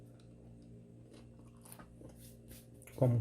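A round French bread roll with a thin crispy crust crunches in a short, loud burst near the end, close up after a quiet stretch of low background hum.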